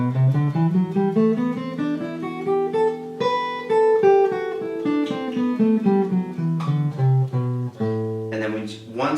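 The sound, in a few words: guitar scale run, E shape up then down D shape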